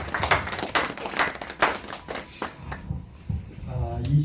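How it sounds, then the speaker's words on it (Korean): An audience at a Marine Corps veterans' political rally gives scattered, uneven rounds of hand claps at close range. The claps mix with talk as they taper off. "여러분 큰 박수와 함께 시작을 하도록 하겠습니다"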